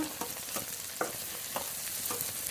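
Ground spice pastes frying in a pan for a Bengali village fish curry, giving a steady close sizzle broken by repeated stirring scrapes at an irregular rhythm.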